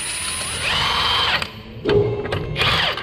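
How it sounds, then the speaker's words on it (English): An impact gun starts lug nuts on a Toyota Tacoma during a leveling kit install, with three close, loud whirring-rattling bursts separated by short pauses. "I'm just going to start these here with a gun."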